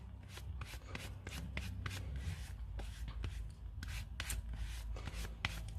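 A rubber stamp rubbed back and forth on a stamp-cleaning pad, giving a steady run of short scrubbing strokes, close and fairly quiet, with no talk.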